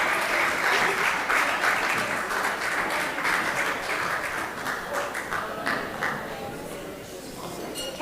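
A crowd gives a round of applause welcoming the MC back onstage at the NFTE World Youth Entrepreneurship Challenge 2023. The clapping is close, dense and sustained, tapering a little near the end.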